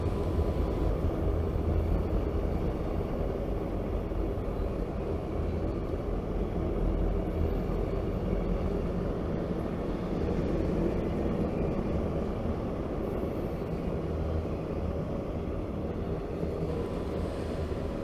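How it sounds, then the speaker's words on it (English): A steady, rumbling roar of a passing freight train, continuous and fairly close throughout, with low droning and rattling and no voices. "In just under 2 hours, 5 northbound trains came by"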